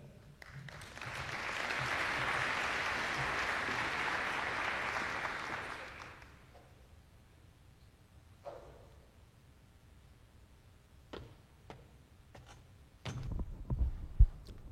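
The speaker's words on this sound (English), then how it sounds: "please a round of applause for Jim Schmidt" An audience welcomes a speaker to the stage with dense, steady clapping for about six seconds before it fades out, leaving near-quiet with a few scattered knocks and thumps.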